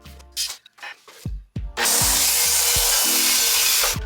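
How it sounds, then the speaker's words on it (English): Power saw cutting through IKEA bookcase panels to shorten them, a few knocks and scrapes of handling first, then a loud, steady whine of the blade biting through the board for about two seconds, close by. "We measured the distance between the tops of the cabinets and the crown molding and cut the bookcases down to fit"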